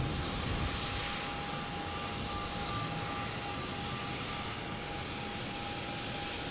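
A British Airways jet taxis at Boston Logan Airport, its engines producing a continuous, even roar with a faint steady whine, fairly loud and unchanging, with no talking.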